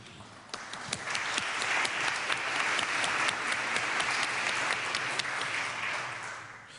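An audience applauds at the 2012 Kavli Prize Science Forum, with dense, steady clapping that builds quickly, holds evenly for several seconds and then tapers off, heard from within the hall.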